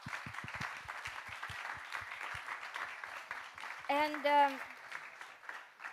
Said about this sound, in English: Little round of applause to our guests.